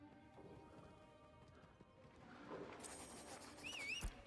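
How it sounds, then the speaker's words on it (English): Horse hooves clip-clopping in the video game Ashes of Creation, soft rhythmic steps that build toward the end alongside a whinny and a sharp crash-like hit. "So our horse is going to be right over here."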